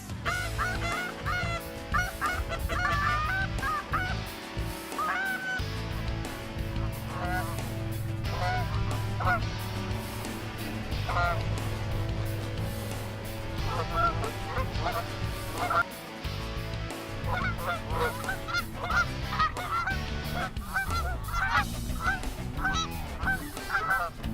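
A large flock of geese honking continuously in a field during a goose hunt, many overlapping calls near and far, with occasional voices underneath.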